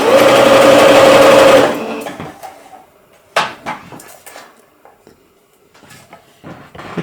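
A Singer C520L Serenade sewing machine runs loud and steady for under two seconds with a high whine, then stops, leaving scattered handling clicks and knocks.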